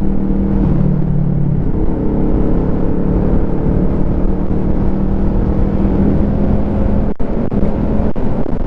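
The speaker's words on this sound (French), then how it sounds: "vous avez entendu comment l'embrayage patine dès qu'on ouvre" A Kawasaki ER5 motorcycle engine drones loud and close with a steady revving whine while its clutch slips, the pitch holding fairly even and briefly dropping near the end.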